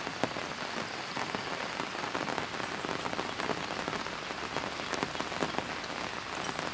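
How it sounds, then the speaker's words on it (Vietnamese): Heavy, steady rain pours down outdoors by a small mountain stream during the biggest downpour in years, a dense continuous hiss of drops on surfaces with no voices. "Để cho các bạn thấy mưa này."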